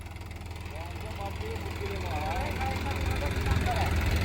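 A John Deere tractor engine with an 8-foot rotavator attached drones steadily at a low, constant pitch, while voices talk nearby over the running machine.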